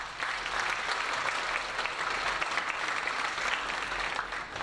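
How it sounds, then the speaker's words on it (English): A high school band concert audience applauds the parents, with full, sustained clapping from a large crowd at an even level throughout. "So let's give a round of applause for all the parents."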